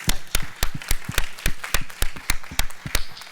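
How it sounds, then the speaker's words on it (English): A small audience at a student game competition awards session claps for the winners, with sharp, distinct hand claps in a loose, uneven rhythm, fairly close and sparse, with no voices over it. "we'd like to just do a round of applause for all of the winners"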